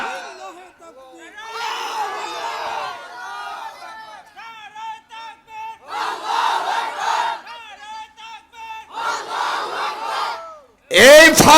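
A large crowd at a religious gathering shouts takbir in loud, repeated surging chants that alternate with a single voice leading, each call answered by a roaring collective response.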